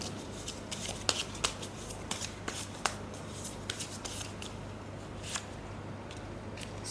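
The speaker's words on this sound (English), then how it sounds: "Okay, so I will shuffle your tarot." Tarot cards being shuffled by hand close up, giving a string of crisp riffling snaps and soft flutters at an uneven rhythm over a low steady hum, with no talking.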